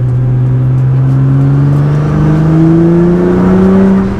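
Nissan GT-R turbo engine accelerating in one steady pull, its tone rising smoothly as revs climb past the turbo's boost point, loud and close with no talk.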